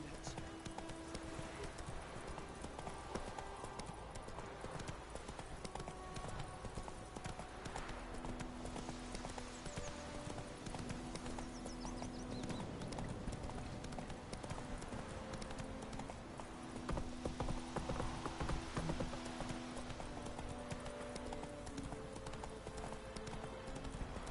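Horse gallops in The Witcher III with steady rhythmic clip-clop hoofbeats throughout, close and continuous, under game music and a voice talking at times.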